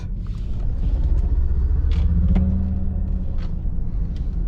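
A low, steady humming drone from a Mercedes EQS 580 electric SUV's synthetic driving sound, continuous and fairly loud, with faint higher tones drifting through.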